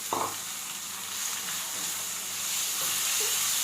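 Masala tipped into a pan of onions fried until red, giving a steady close sizzle and hiss of frying that swells slightly toward the end, with a soft clatter at the start and no talking.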